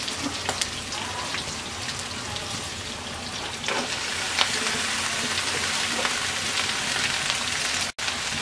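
Okra frying in a hot pan gives a steady, dense sizzle and crackle that runs unbroken throughout, with no talk over it.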